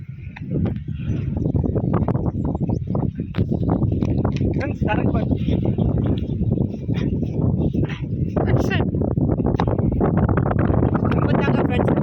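Outdoor wind rumbles and buffets steadily across a fishing and barbecue spot where fish are grilled over a fire between stones, loud and continuous for the whole stretch, with people talking over it.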